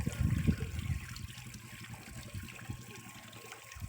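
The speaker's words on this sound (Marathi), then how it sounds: "सगळीकडून असा पाझर आहे." Water seeps from all sides into a farm well after the motor pump has lowered the water level, making a faint, steady trickle and dribble that is slightly stronger at the start.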